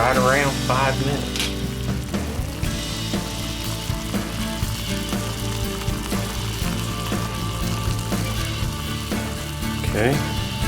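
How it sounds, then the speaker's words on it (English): Water comes to a boil in a pot on a Gram Weenie Pro alcohol stove, giving a steady close-up bubbling and sizzling with a few rising whistling tones, and a voice speaks briefly. "It looks like we're boiling,"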